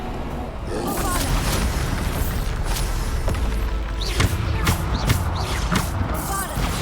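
Repeated Bombarda explosion spells in Hogwarts Legacy boom through a busy combat scene, a string of punchy thumping blasts and bursts over continuous battle noise.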